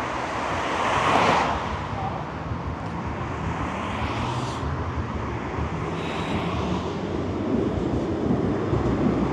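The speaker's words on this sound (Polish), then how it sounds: "No i macie tramwaj łódzki, który wyjątkowo szumi" A Łódź city tram passing nearby with a broad, steady rushing hum amid street ambience, swelling briefly early on and staying loud and continuous throughout.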